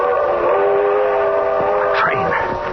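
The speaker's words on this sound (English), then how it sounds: "Train. If I can make that train." A radio-drama train effect: the steady rumble of a rolling train with a long whistle blast rising over it near the end.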